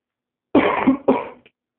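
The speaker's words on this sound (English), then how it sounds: "So if you hear me cough" A person coughs twice in close succession, close to the mic and fairly loud, with a rough throaty quality, alone against silence.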